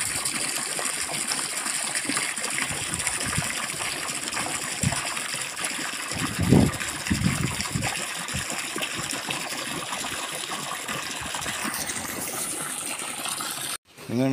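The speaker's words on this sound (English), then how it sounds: "I was emptying the water through the sieve" Water from a koi pond poured out through a sieve makes a continuous gushing, trickling stream with a brief louder splash midway, and a voice speaks at moments.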